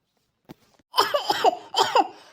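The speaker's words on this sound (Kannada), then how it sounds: "ಅಯ್ಯೋ, ಯಾಕೋ ಕೆಮ್ಮು ಬಂದಂಗಾಯ್ತು ಕಣೆ." A woman coughs in a short burst of several harsh coughs, close and fairly loud, after a faint throat sound; no speech is heard.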